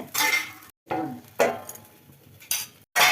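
Metal lid set down on a hot pan during rava dosa cooking, with clinks and clatters of cookware in short bursts separated by brief silences.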